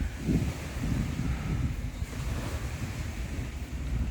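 Ocean surf rolls in at a beach with a constant low roar and wind buffeting the microphone, steady throughout with no voices.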